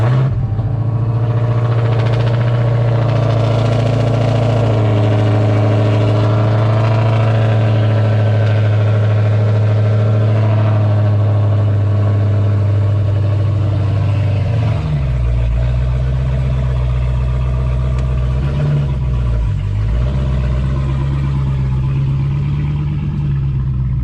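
A 2016 Dodge Challenger SRT Hellcat V8 fires up and settles into a deep, loud rumbling idle, with a slight rev dip partway through, heard close and alone.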